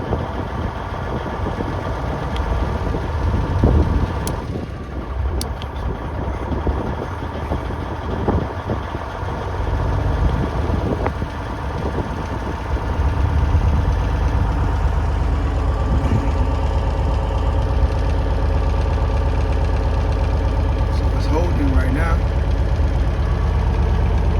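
A Volvo VNL truck's diesel engine idles with a steady rumble, then is run up to a higher, fuller drone in the second half; someone talks over it early on.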